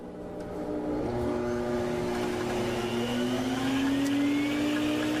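A Sirena water-filter dust mite removal machine spins up and runs, a rising motor whine settling into a steady loud hum with a climbing tonal pitch, alone without talk.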